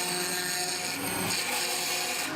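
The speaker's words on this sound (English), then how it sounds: "I removed more material at the bandsaw" Bandsaw slicing excess material from a wooden axe handle, a dense steady whine and rasp held at constant loudness, close up.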